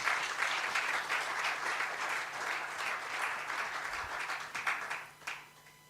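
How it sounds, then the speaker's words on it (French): An audience at an impact event applauds an organisation, warm sustained clapping from many people that fluctuates gently, then fades out near the end. "Est-ce que nous pouvons les encourager avec les applaudissements?"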